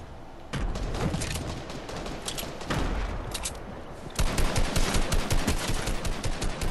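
Rapid automatic gunfire from Fortnite, including sniper shots, rattles in dense loud bursts nearly throughout, with a short pause early on and a heavier volley near the end.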